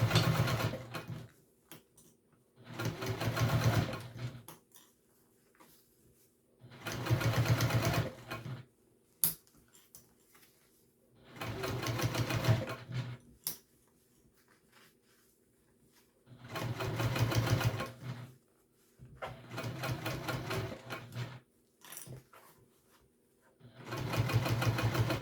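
A sewing machine stitching the seams of a backpack runs in several loud, steady bursts of a few seconds each, separated by quiet pauses.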